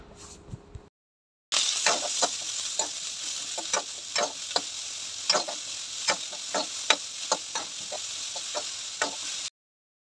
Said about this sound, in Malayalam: ചീനച്ചട്ടി വെച്ച് വെളിച്ചെണ്ണ ഒഴിച്ച് കടുകൊക്കെ ഇട്ടിട്ടുണ്ട്